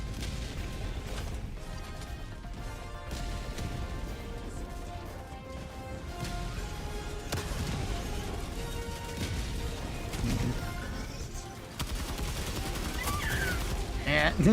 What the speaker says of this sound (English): Still got the machine guns.